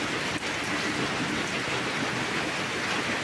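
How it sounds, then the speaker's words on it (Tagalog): Steady rain falling outdoors in a backyard with banana plants, an even dense hiss of drops on surfaces, constant and fairly loud throughout with no voices. "maulan na panahon"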